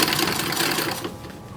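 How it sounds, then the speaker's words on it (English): An antique sewing machine stitches a silk dress for a porcelain doll, a fast, even mechanical whirr of close needle strokes that stops near the end. "tiny little sewing machine foot for the win."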